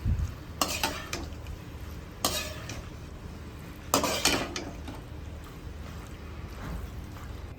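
A utensil scrapes and clinks against a pan while red sauce is stirred into pasta, with a few sharp louder scrapes among softer mixing and a faint sizzle underneath, no talking.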